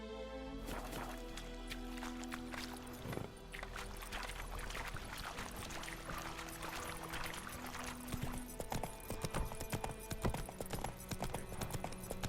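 Hooves of Roach, Geralt's horse in the video game The Witcher 3: Wild Hunt, clip-clop in a steady rhythm along with game music and ambience, with no voices.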